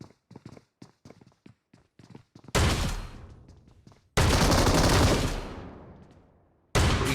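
M10 shotgun firing in the BGMI battle royale game, with a quick run of sharp footstep-like clicks before three loud, booming blasts, each trailing off in a long echoing decay.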